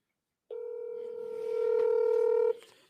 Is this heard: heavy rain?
no